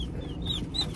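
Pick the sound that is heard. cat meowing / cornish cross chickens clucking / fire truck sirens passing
cornish cross chickens clucking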